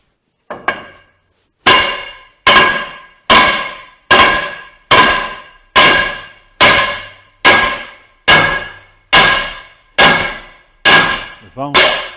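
Two big hammers pounding a shaft during a Western D8 spreader repair, about a dozen loud ringing metallic clangs at a steady rhythm, each decaying before the next strike.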